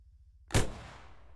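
A rocket launcher fires at an APC in ArmA 3, one sharp, loud blast whose roar then trails off into a long, fading rumble after a quiet lead-in.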